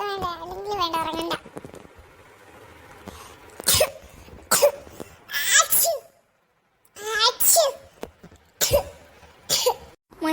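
A sick young boy coughs and sneezes repeatedly in sharp, loud bursts separated by short pauses, with a voice heard at the start.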